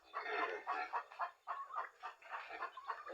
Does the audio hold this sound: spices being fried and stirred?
no